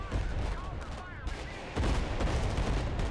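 Mortar and gunfire in the real-time military strategy game Broken Arrow, a dense barrage of shots and blasts that swells louder partway through, with chatter faintly mixed in.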